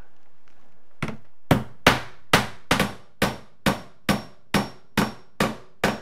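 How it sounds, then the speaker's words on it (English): A hammer drives a nail into door trim with about twelve sharp, close strikes, starting with a light tap and then settling into a steady, evenly spaced rhythm. "I'm gonna put a nail right here."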